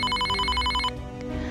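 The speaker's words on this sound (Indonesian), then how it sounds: "Di tempat Vinny, dia mendengar suara telepon hitam itu berdering" An old black telephone's bell rings steadily with a bright, rattling tone for most of the moment, then stops abruptly, leaving a faint room hum.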